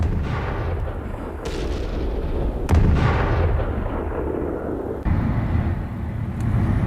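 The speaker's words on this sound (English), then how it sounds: "the man is seen walking next to a road as a huge explosion occurs" A huge explosion from an Iranian missile strike in central Israel booms beside a road, caught on a CCTV camera, with a sharp blast followed by a sustained roar and a second jolt amid loud rumbling.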